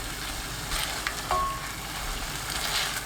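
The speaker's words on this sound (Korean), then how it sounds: "양념이 끓으면 청경채, 표고버섯 넣고 센 불로 1분 볶아주세요." Bok choy and shiitake mushrooms stir-frying in a pan over high heat, giving a steady close sizzle with a few clanks and scrapes of the utensil partway through.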